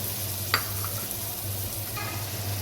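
Steady sizzling of garlic ginger paste frying in a pan, a soft continuous crackle with a low hum underneath and a couple of brief clinks, no talking.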